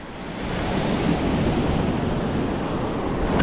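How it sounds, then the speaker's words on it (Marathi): Large ocean waves break on the Konkan coast as a loud, continuous roaring wash of surf with wind buffeting the microphone, close and steady and free of voices. "आणि लाटा मोठ्या बनत आहेत"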